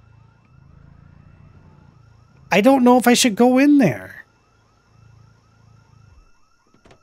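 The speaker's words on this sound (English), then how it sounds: "Oh, zombies triggered a house alarm." House alarm going off in the zombie survival game Project Zomboid, a repeating electronic whooping tone pulsing faintly in the background throughout, briefly covered by a loud nearby spoken remark.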